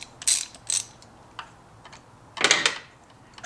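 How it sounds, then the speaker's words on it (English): A ratchet with an extension and socket loosens a spark plug on a BMW 320i, giving a few short, bright clicking bursts close by, then a longer cluster of ratcheting near the end, with no talk. "You just take it, slide it down in the hole, clip it over the plug, and then loosen it up."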